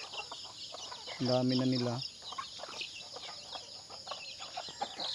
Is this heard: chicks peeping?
yes